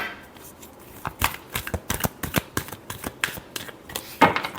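Tarot cards are shuffled by hand, an irregular series of crisp flapping riffles and taps close up, growing busier toward the end.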